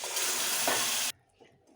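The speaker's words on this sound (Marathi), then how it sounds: "चांगलं मिक्स करून घेऊ" Cooked chickpeas being stirred into spiced onion-garlic masala in a pan, a loud wet scraping and sizzling churn for about a second before it cuts off abruptly into near quiet with a couple of faint clinks.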